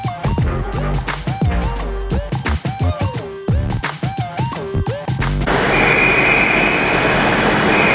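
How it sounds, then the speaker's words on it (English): Trains at London Waterloo, a busy railway station: wheels screech and squeal in repeated sliding whines over rumbling carriages, then the sound gives way to a steady, loud roar of a train moving close by. "one of the busiest stations in London"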